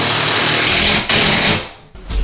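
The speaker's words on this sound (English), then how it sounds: "I like to use the impact driver for this one" An impact driver drives screws into a kitchen cabinet in a pantry, giving a loud, fast rattling hammer buzz that drops out briefly, resumes, then winds down before a last short burst.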